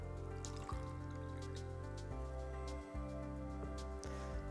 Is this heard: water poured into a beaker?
yes